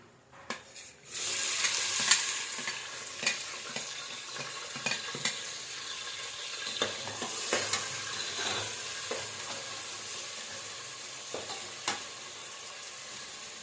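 Chopped onions frying with a bay leaf in hot oil for mushroom biryani, a steady close sizzle that starts after a second, broken by occasional clicks of a spoon stirring.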